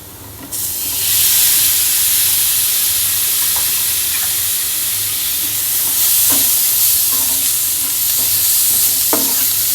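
Chopped tomato goes into a cauliflower masala frying in a hot pan, setting off a sudden loud hiss that settles into a steady, close sizzle, with occasional clinks of a stirring spoon.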